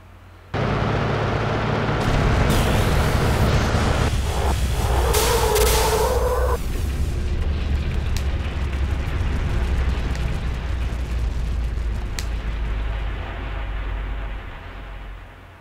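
Bomb blast in the video game Front Mission 3, a loud roaring explosion that swells into a long rumbling burst with crackling debris, then a sustained fading roar lasting many seconds.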